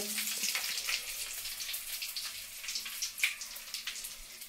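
Dried red chillies sizzle in hot oil, a faint, steady crackle and hiss with small pops, heard alone without talk.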